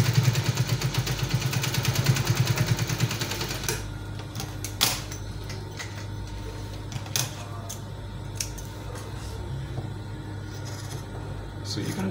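A sewing machine stitches a V neckline in a rapid, steady mechanical whir for the first few seconds, then stops, leaving low room hum and a few faint clicks and handling sounds.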